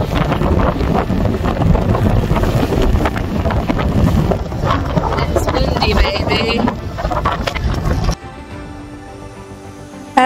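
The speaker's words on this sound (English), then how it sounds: "the wind funneled down from the northwest, bringing vicious gusts and rapidly shifting conditions" Loud gusting wind buffets the microphone in a constant roar on a heeling sailboat in the Ionian Sea, with splashing water and creaking, then cuts abruptly to a quieter hum.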